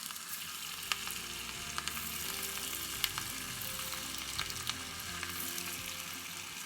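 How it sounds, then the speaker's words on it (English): Sweet corn vada patties deep-frying in hot oil on a medium flame, giving a continuous dense bubbling sizzle with scattered small pops throughout, steady and close, no voices. "Deep fry on medium flame for 1 minute, and once the bubble starts to settle down, you have to flip them"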